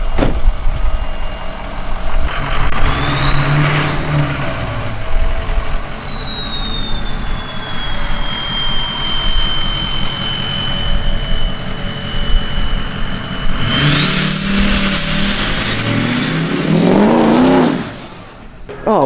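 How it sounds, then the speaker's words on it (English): A Ford car's engine revs hard during a burnout in a repair shop, a loud sustained roar whose pitch climbs, holds high, then surges again before cutting off near the end. "All right, let's see a burnout."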